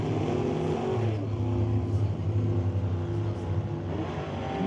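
Super Gas drag race cars at the top end of the track roar steadily in a sustained, loud, slightly wavering engine drone heard from a distance, with no talk over it.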